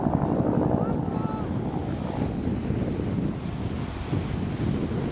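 Strong, steady cold winter wind buffets the microphone in a snowy mountain landscape near a ski jump, a loud continuous roar with no pauses.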